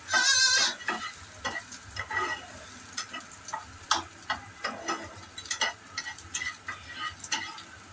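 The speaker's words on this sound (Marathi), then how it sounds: "ऑनियन थोडंसं तेलात परतेपर्यंत फ्राय करायचं" Onion frying in oil, a steady close sizzle broken by frequent uneven scrapes and taps of a spoon stirring in the pan, with a short bleating cry at the start.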